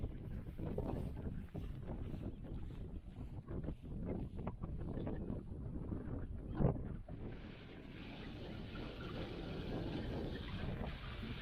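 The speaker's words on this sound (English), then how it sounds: "Wow, it's blowing a gale." Strong gale wind buffets the microphone on a countryside hike near abbey ruins, giving a loud continuous roar with rumbling gusts that ease slightly toward the end and no speech over it.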